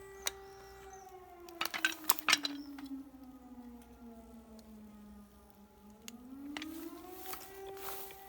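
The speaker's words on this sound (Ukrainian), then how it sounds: "З сиреною за спиною." A loud air raid siren wails, its pitch sliding slowly down and back up, with a few sharp metallic clanks early on.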